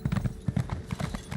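Horse hooves gallop in the Elder Scrolls Online video game, a quick, steady, close clip-clop rhythm with no talk over it.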